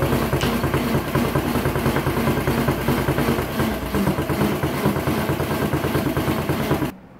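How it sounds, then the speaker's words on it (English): A Tecumseh 5 hp engine on a Manco Critter II go-kart idles steadily up close, a fast, even putter with a rough mechanical vibration, running alone before it stops abruptly near the end. "That engine's purring though."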